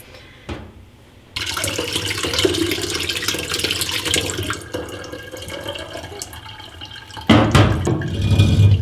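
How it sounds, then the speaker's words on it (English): Mixed berry iced tea pours through a strainer into a pitcher, a steady splashing liquid stream after a brief clunk, then a louder gush toward the end, close by with no talk. "What I'm going to do is pour it into the pitcher. I have a strainer on top of my pitcher."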